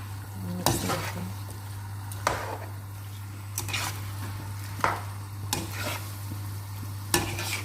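Bakemac ingredients being stirred in a pan with a spoon, a few sharp scraping and clinking strokes spaced through a steady low hum and faint sizzle, with no voices.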